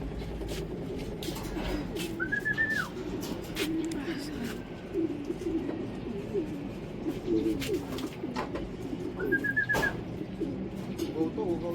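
Racing pigeons coo softly at the loft during a 188 km race, with a couple of clear whistling calls standing out over steady outdoor ambience and faint background voices.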